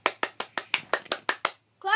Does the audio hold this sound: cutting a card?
no